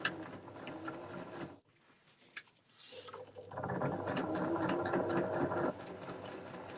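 Close sewing machine top-stitching a screen-printed fabric gift bag, running in a steady whir, then stopping briefly for handling before a longer second run.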